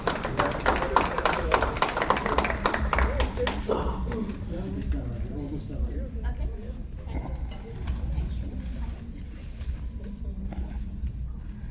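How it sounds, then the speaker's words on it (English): A crowd at an awards ceremony and tea party in Maryland claps to welcome a cargo company's general manager. The applause is dense and loud for about four seconds, then thins into scattered claps and room murmur. "Let's welcome a round of applause to the general manager of Caribbean Cargo."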